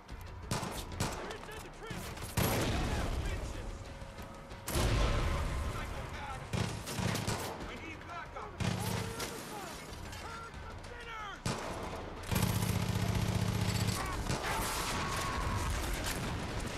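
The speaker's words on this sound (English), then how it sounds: "Where are these explosions coming from?" In the video game Far Cry 5, dense bursts of gunfire and booming explosions crowd together in rapid succession, loud and chaotic, with a voice briefly speaking over them.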